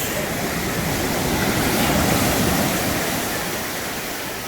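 Sea waves wash steadily onto a beach in Kaş, Turkey, making a loud, continuous broadband surf roar that swells slightly mid-clip and eases toward the end, with no voices.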